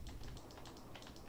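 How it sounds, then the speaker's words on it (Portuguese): A noisy computer mouse clicks repeatedly during a GTA getaway-driving game session, a quick run of sharp, close taps at an even pace with no voices. "Desculpa pelo barulho do mouse"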